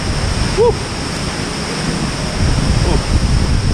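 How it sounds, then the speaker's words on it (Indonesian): Steady roaring wind buffets the microphone near a hidden waterfall in Simalungun, loud and constant, with a rushing water-like noise underneath. "Dari sini kita sudah bisa merasakan angin yang begitu kencang ya."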